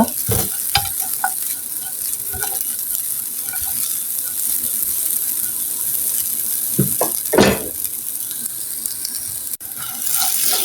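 Jorda semai vermicelli being stirred and cooked in a pan, a continuous close sizzle with scattered scraping and clinking of the spoon against the pan and a louder scrape burst around the middle.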